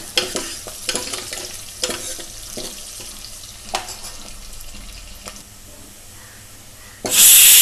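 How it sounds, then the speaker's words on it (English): Onions fry in a few spoonfuls of oil for gongura mutton, a soft hiss broken by sharp spatula scrapes and taps as they are stirred, ending in a sudden loud burst of sizzle. "Fry the onions till golden brown color."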